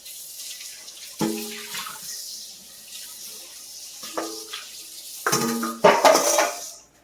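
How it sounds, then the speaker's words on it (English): Water runs from a tap into a sink as a mixing bowl coated in soapmaking lye is rinsed, with clanking bowl and utensil knocks in bursts and a splashing rush near the end, close and moderately loud. "I'm going to rinse this really quickly just to get that top layer of lye off of the bowl"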